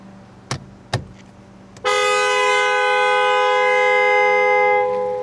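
Two short clicks, then a loud sustained car horn blast from an N-style Gokuon horn with an echo effect, ringing on with an echoing tail for several seconds, fading slightly at the end.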